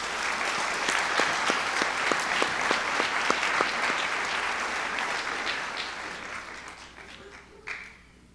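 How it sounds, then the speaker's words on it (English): An awards ceremony audience at a 1984 civic service awards gives sustained applause, a dense steady clapping with a few sharper claps standing out, fading toward the end. "So please at least give a round of applause."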